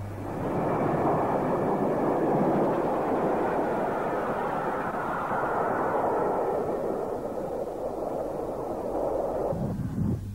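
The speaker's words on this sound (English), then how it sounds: "A rebuilt West Country class locomotive heading to London Waterloo." Rebuilt West Country class steam locomotive heading to London Waterloo, a sustained broad rushing roar of a train passing at moderate distance on 1950s British railways.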